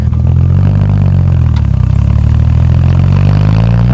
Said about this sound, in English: I love the sound, because it's a straight 6 with a stainless steel exhaust.